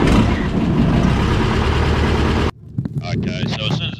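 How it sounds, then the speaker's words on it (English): A light aircraft engine starts and runs loudly with a steady rumble, cuts off suddenly, and voices follow over quieter background noise. "Throttle closed, hand on throttle, engine start."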